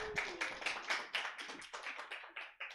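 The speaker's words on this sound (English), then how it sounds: "Give Jesse a round of applause in Stab Comedy." Scattered hand claps from a small comedy show audience, fairly quiet and uneven, tapering off over a few seconds.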